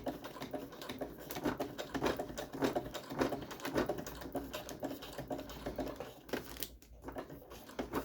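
A sewing machine stitches slowly over the thick seam of a zippered bag, producing rapid rhythmic mechanical ticking and patter, fairly quiet with no voice.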